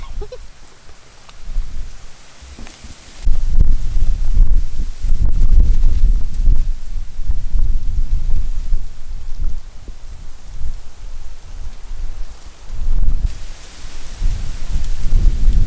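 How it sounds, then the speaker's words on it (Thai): Strong wind gusting at a bass fishing spot in winter, a loud continuous roar and buffeting that swells and eases across the whole stretch, with no clear talk. "ลมแรงมากเลยครับ วันนี้"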